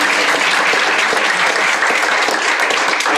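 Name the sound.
audience applause for speakers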